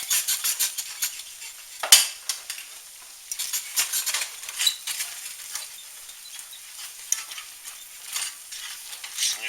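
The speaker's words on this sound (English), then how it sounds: "I'm just going to stir this up until it's nice and creamy." Alfredo sauce with mozzarella and parmesan is stirred in a pan, soft sizzling under quick, irregular scrapes and clinks of the utensil against the metal, close and moderately quiet, with no talking.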